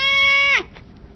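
A house cat lets out a single loud, close meow that holds steady and then drops sharply in pitch at the end, sounding almost like a bleat, followed by near silence.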